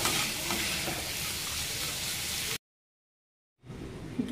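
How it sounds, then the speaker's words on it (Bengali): Carrots and green peas frying in a pan make a steady close sizzle with stirring, which cuts to silence and then resumes more quietly. "শুটি কড়াইটা দিয়ে দিলাম, পরে একসঙ্গে ভালো করে ভেজে নেব।"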